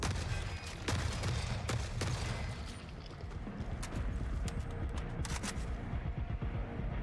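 Auto shotguns firing in the video game The Forever Winter, heard as sharp, rapid repeated blasts with a mechanical clack, loud and close, spaced irregularly over a dense rumbling battle background.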